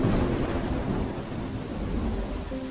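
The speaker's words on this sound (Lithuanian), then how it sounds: "Po to sekė murmėjimas, tarsi griaustina ir žaibo blyksniai." Heavy thunder rumbling over steady rain in a storm, a deep continuous roll filling the low end beneath the hiss of downpour, loud and unbroken throughout.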